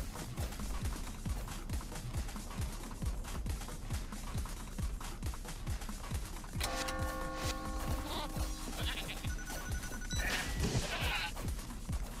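Repeated sheep bleats in the video game Tokyo Jungle sound over a busy backdrop of rhythmic game sounds, with brighter electronic chimes and effects joining partway through.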